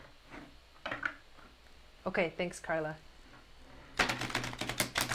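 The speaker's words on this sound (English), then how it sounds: "I want to really shuffle it." A deck of reading cards being shuffled hard, a quick burst of dense riffling clicks near the end, with someone speaking briefly just before.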